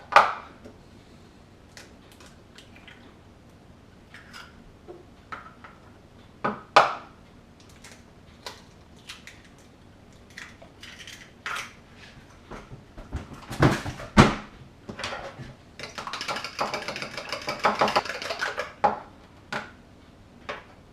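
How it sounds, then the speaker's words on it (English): Eggs are hand-whisked with a fork in a bowl during berry muffin baking: scattered clicks and taps come first, then a burst of rapid, scraping clatter near the end, all fairly quiet and close. "take 2 eggs, break them into a separate bowl and then hand whisk them with a fork."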